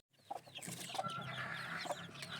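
Chicks and chickens on a farm cluck and cheep in quick, faint bursts, several birds close together over a soft background.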